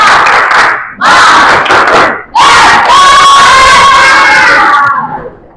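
A class of children performs a spirit clap, a burst of unison clapping followed by a loud, sustained group shout and cheer that fills the room and then fades.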